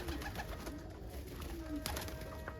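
Soft cooing of almond pigeon cockbirds repeats through a steady background hum, with faint instrument-like tones drifting in from a neighbor's garage nearby.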